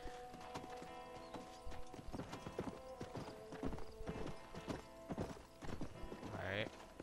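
Horse hooves clip-clop steadily in Red Dead Redemption, a brisk rhythmic trot of sharp repeated knocks over game music, with a brief whinny near the end.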